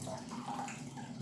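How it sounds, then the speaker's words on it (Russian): Water drains steadily from a water heater into a bucket, a close, continuous soft splashing rush with gurgling, fairly quiet and without talk. "Для начала надо 100 литров воды слить."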